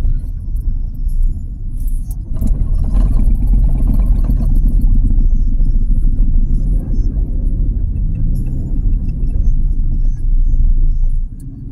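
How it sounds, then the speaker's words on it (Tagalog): Continuous low rumble of a Toyota Camry hybrid driving in night traffic on a highway to Tagaytay, steady road and engine noise heard from inside the car with faint clicks and no clear voices. "Traffic."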